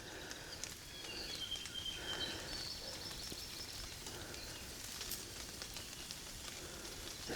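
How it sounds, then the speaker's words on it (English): Meat cooking over a campfire at a jungle campsite in Hawaii gives off a faint, steady sizzle and crackle, with birds calling softly in the background. "Hearing some of that sizzle."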